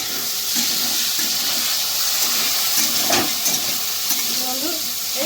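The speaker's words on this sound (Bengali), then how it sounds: "এইটা একটু 2 মিনিট ভেজে নেবো মশলাটা" Chili masala paste made with chili powder and green chili paste frying in a pan, a steady loud hiss and sizzle with a few faint stirring scrapes running throughout.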